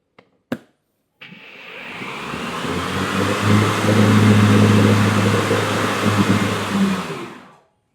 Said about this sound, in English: we're going to go on and engage the blade, make sure everything's working